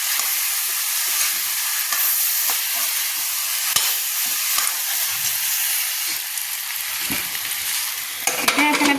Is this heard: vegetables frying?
yes